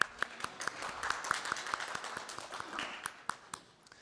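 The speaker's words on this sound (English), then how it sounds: "Give yourself an applause." Scattered, fairly quiet audience applause at a cybersecurity summit, individual claps distinct and uneven, fading out over a few seconds.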